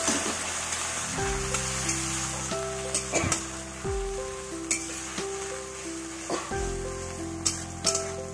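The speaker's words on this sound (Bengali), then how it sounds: "এবার আমি দিয়ে দেবো জল" Loud continuous sizzling as water goes into a pan of frying potatoes and spices for a rohu fish curry, crackling steadily with a few sharper clatters and stirring knocks throughout.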